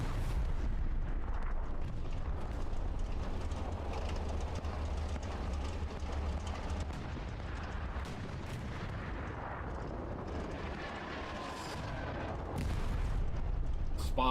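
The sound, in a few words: self-propelled artillery rounds landing, Hell Let Loose video game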